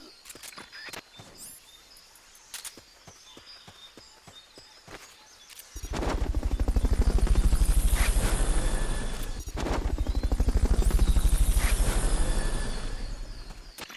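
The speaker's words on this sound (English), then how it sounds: "Fulton recovery helicopter is complete." A rescue helicopter in the video game Metal Gear Solid Peace Walker arrives after a stretch of quiet clicks and small game noises, its rotor a loud, rapid, swelling thump that dips briefly and surges again.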